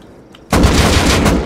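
Gunfire in the video game Rust: after a quiet moment, a loud close burst of rapid shots erupts and continues to the end.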